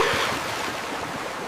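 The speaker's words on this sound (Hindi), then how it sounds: "यहाँ पानी का बहाव तेज है" Rushing river water in a cartoon, a steady broadband roar of fast-flowing current over rocks, loud and continuous with no voices.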